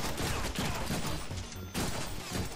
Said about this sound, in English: Who's shooting me in the back?